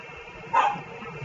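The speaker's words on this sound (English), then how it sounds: "Annie, could you put those dogs outside before I hurt them?" Dogs barking indoors, a single short bark standing out over a quiet room background with no talk.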